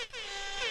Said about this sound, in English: Let's give him an air horn.